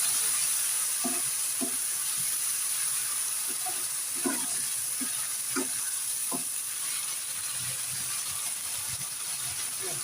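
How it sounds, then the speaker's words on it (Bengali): Meat going into water over onion paste in a pan for an Eid-style dry meat dish, with a steady sizzling, frying hiss and a few scattered stirring clinks close by. "এবার আমি এর মধ্যে মাংসটা জলে দিয়ে দিচ্ছি জলে দিচ্ছি"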